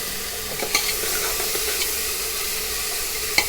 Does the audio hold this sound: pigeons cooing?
no